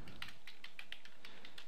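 Quick light taps on a computer keyboard as a command is entered, a short burst of about eight close, soft keystrokes at an even pace.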